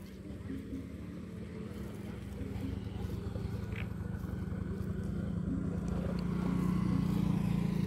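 A motorcycle engine drones at low pitch and grows steadily louder as it approaches on a residential street, with a child's and adult's voices faintly in the background.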